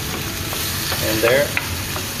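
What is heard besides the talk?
beef frying in a pan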